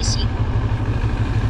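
A motorcycle engine running hot on a desert-bound road trip toward the Taklamakan, a steady low rumble throughout with a short high whine at the start, talk riding over it.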